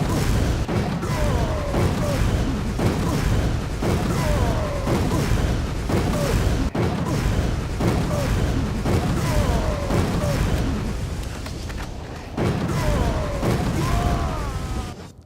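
Electricity rounds fired in Resident Evil 5 crack out as repeated loud shots in a steady rhythm, each a sharp burst with buzzing tails, continuing close and dense throughout.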